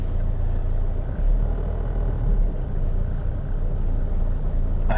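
A 2015 Chevy Sonic on its first drive gives a steady low interior rumble of engine and road noise, constant and fairly loud throughout with no talking.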